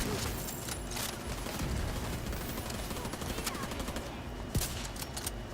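Dense, continuous gunfire from The Division 2, with overlapping automatic bursts and rapid shots filling the whole stretch and a sharp louder crack near the end, as in a chaotic firefight.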